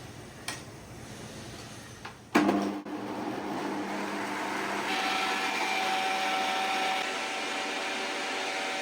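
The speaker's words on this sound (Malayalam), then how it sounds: "ഇനി നമുക്ക് മിക്സി അടിക്കാം." A kitchen mixer grinder blends batter for idli or appams, starting with a few clicks and a short burst before settling into a steady, loud motor whine that runs to the end.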